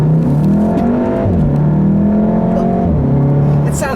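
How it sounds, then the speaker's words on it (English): A car's engine accelerates hard at full throttle, its note climbing steadily in pitch through two gear changes, loud and close throughout with no talking. "Another acceleration."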